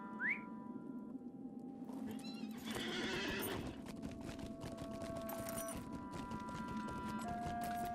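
A horse in the game Lord of the Rings Online gives a whinny, then steady clip-clopping hooves continue alongside whistle-like tonal game music, fairly quiet overall.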